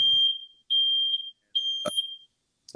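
A smoke alarm goes off during an interview, sounding three loud, piercing electronic beeps, each lasting about half a second with short gaps between them, and a brief voice cutting in near the end.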